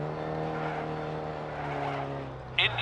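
A rally car in DiRT Rally holds third gear on a Monaco stage, its engine a steady, loud, unbroken drone with a brief sharp burst near the end.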